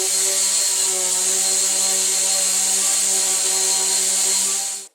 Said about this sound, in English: That means it's time for us to sand over this